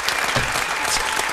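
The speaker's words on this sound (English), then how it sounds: "Give that man a round of applause." An audience gives Michael Eric Dyson a round of applause, a dense, steady wash of many hands clapping together close by, with no voices over it.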